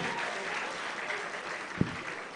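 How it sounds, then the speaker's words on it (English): Audience applause at a leadership lecture and award ceremony in Abuja: steady, fairly distant clapping from a crowd that holds at an even level throughout, with one brief sharp knock near the end. "please can we give him a bit of round of applause, please."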